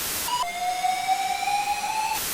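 A voice imitates a ghost with a long, thin, wavering whistle-like wail that steps down in pitch and holds, steady and eerie over faint hiss.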